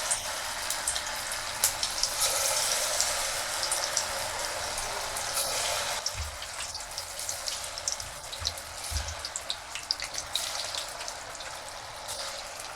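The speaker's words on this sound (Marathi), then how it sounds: "भजी त्यामध्ये सोडावी।" Corn pakoda batter sizzles steadily in hot oil over a lowered gas flame, a dense, continuous hiss with scattered crackles and pops that eases slightly partway through.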